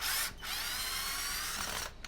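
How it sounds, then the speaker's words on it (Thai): A cheap but powerful cordless drill whines steadily while backing out a screw, a continuous high motor drone with a short dip near the start and the run ending after about two seconds, close to the microphone and with no talk. "เดี๋ยวทีนี้เราจะมาลองอคลายน็อตสกู ออกกันบ้างนะครับ"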